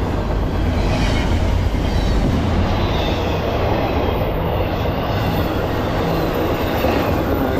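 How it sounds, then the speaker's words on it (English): A CSX or Norfolk Southern freight train of 122 axles rumbles steadily past close by at 49 mph on the Lehigh Line, a loud continuous roar of wheels and rail noise with faint rhythmic clatter throughout. "122 axles, 49 miles an hour. The fifth train of the morning"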